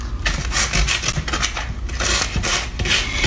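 Hand sanding across a chalk-painted wooden table, a steady, close scratchy rubbing in repeated back-and-forth strokes that continues alone without a break.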